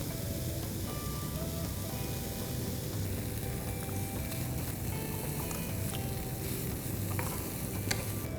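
Coconut, sugar, mixed dry fruits and saffron roasting in a pan, a steady dense sizzle and crackle that holds evenly with faint scraping flickers, close and constant.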